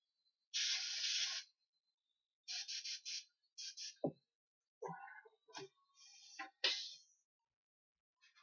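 An airbrush sprays paint freehand in short, quiet bursts of airy hiss, some steady and some broken into quick pulses, separated by silent gaps.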